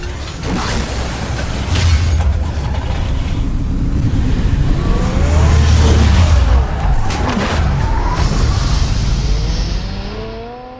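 A car drives in Batman: The Telltale Series, a steady engine rumble with low hum and creaks that swells midway and fades at the end, with no talk.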